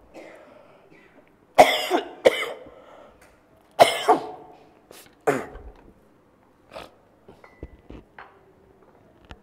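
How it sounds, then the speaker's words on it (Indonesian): Several sharp coughs ring out close by in irregular bursts, loud at first, then fading into softer coughs and throat sounds. "terganggu oleh batuk-batukku biasa"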